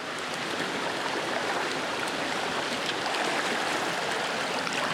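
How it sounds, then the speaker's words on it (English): Fast-flowing stream water rushes toward a deeper pool on a fly-fishing river, a dense, steady broadband roar heard close and continuously, with no voices. "Fast water leading to deep water."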